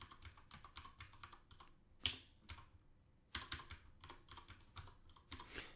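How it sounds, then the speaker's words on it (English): Bursts of typing on a computer keyboard while an array of ages is entered into C++ code, with rapid key clicks in irregular runs, a louder keystroke now and then and short pauses between bursts. "I'm just typing in some"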